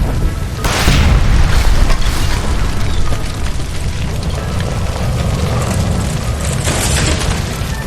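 Gas line blowing up by a stove inside a building in L.A. Noire, a loud sustained booming roar with rumbling debris that fills the whole stretch, with no clear voices over it.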